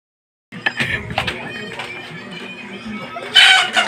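A chicken clucks in short bursts and then gives a brief crow near the end, loud and close, mixed with animated voices.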